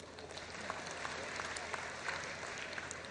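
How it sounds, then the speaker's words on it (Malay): Faint, distant audience applause fills a hall at a special meeting of a deputy prime minister with Sarawak educators, a soft continuous patter of many hands. "Tepuk tangan."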